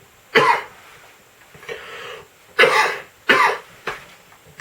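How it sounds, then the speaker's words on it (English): A person with a bad chronic cough lets out four separate coughs, each followed by a short raspy tail, with brief quiet gaps between them, close and alone. "And a little bit of a bad cough."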